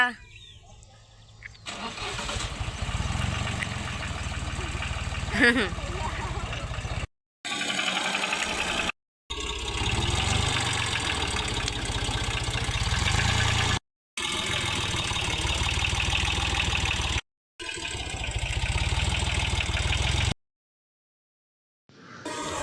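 A tractor engine runs during a millet harvest on a farm, a steady loud rumble broken by several abrupt cuts, with people talking over it.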